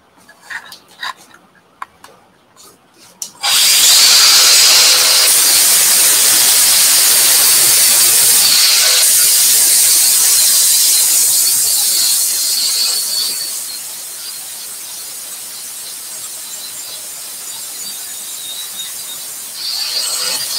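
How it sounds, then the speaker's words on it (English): An INGCO angle grinder kicks in with a loud, steady high-pitched whine and hiss that runs continuously, easing slightly in intensity partway through, after a few seconds of quiet clicks and handling noises. "Everything can be done by this INGCO angle grinder, so this is not much issues. So we can use the grinder."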